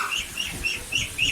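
Pigeons and chicks calling in a bird coop, a run of close, high, rhythmic cheeps repeating about every quarter second.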